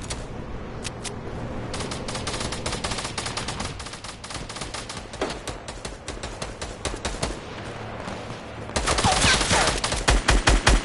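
Rapid gunfire fills a video game battle, with dense bursts of automatic shots and scattered single cracks, growing louder and more intense toward the end.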